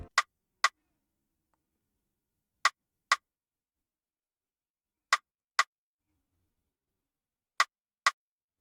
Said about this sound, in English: Yeah, that's the rim shot.